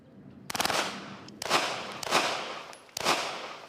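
Gunfire at a shooting range: four sharp reports, the first a quick rapid burst followed by three separate single shots spaced about half a second to a second apart, loud and close, each trailing off in a short echo, no talking.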